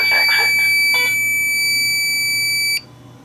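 A fire alarm system in trouble mode gives off a loud, steady electronic buzzing tone with a few short beeps near the start, holding for close to three seconds before cutting off into quiet room noise.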